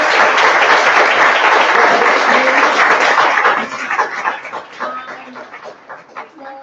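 An audience at a talk event bursts into loud, dense applause that holds for a few seconds, then breaks into scattered claps and whoops as it fades.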